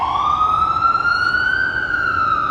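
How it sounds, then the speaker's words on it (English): A fire department ambulance siren wails loudly and close, its steady tone slowly rising in pitch as the vehicle passes on an Upper West Side street. "another fire department ambulance."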